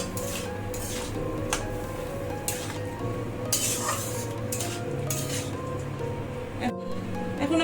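Bottle gourd with green chillies stirred in a pan over a low gas flame, a steady sizzle with scraping spatula strokes and metallic clinks against the pan, plus a brief sharp knock near the end.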